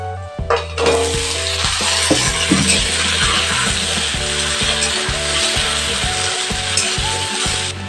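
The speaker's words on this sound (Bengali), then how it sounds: "এরপরে দিয়ে দিচ্ছি কেটে রাখা আলু" Loud, steady sizzling and crackling of cut potatoes frying in a pan with onions and green chillies, with clanks and scrapes of a utensil stirring throughout.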